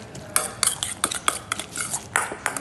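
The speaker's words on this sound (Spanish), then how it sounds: "un poco de pepinillo, unas alcaparras y un poquito de mostaza. Todo ello lo mezclaremos bien." Pickles, capers and mustard mixed with an egg yolk in a bowl give a quick run of close clinks and scrapes, a utensil knocking rhythmically against the dish.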